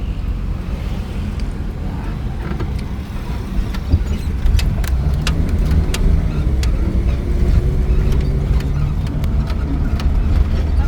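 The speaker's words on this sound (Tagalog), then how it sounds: "ugong ng sasakyan o tunog ng sasakyan" A car engine runs steadily at close range, a low continuous rumble with a slight rise partway through and faint wind buffeting on the microphone.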